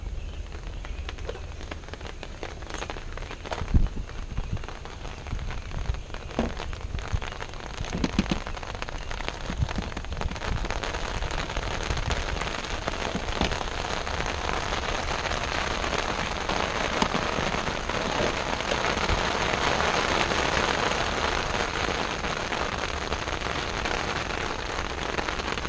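Steady rain falls outdoors during a side mirror install on a 2008 Infiniti G35 four-door, a continuous hiss of drops on surfaces with scattered louder patters and no talking.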